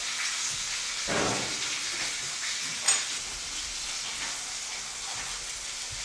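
Steady hiss of a pan sizzling over a fire, cooking down a topping for steak, holding at an even level throughout with a brief louder burst partway through and a few faint clinks.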